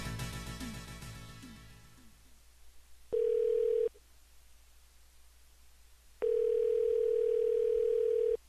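Telephone call tone plays in two steady, loud bursts of about a second and two seconds, separated by silence, after a fading ring at the start while a call is redialed.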